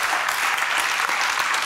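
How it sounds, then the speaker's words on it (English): Steady, dense applause from a science slam audience fills the whole stretch, loud and continuous with no speech over it. "give a large round of applause so that we can see that"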